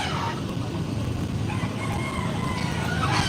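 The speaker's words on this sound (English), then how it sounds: "there's even roosters and chickens in the central city here." Roosters and chickens roaming a central city area, with faint crowing and clucking blended into a steady, fairly loud urban background hum and distant traffic.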